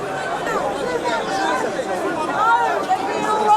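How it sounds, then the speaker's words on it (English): A loud crowd of protesters at a tense street demonstration with a heavy police presence, a dense wall of overlapping shouting and chatter that stays loud and close throughout. "the noise is crazy. You can't even like hear yourself speak the closer you get to this crowd"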